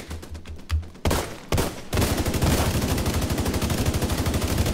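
Rapid video game gunfire hammers against a wall, starting with a few separate bursts and then settling into a steady, loud automatic stream that holds close and unbroken to the end.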